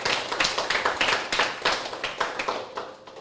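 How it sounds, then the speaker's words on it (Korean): Sustained audience applause fills the hall at the close of a lecture on cell science and medicine, with many hands clapping densely and fairly close. It swells in uneven pulses before tapering slightly at the end. "다시 한번 큰 박수 부탁드리겠습니다"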